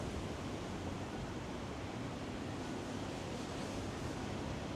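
Strong wind buffets the microphone by the sea, a dense, steady roar of rushing air and surf noise that fills the whole stretch without pause.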